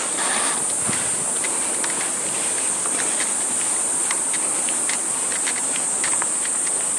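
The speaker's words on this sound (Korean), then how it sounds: "매미 소리가 들리네" Cicadas sing along a mountain trail on Ansan in Seodaemun, a continuous high, shrill drone that stays steady throughout, with faint footsteps and no talking.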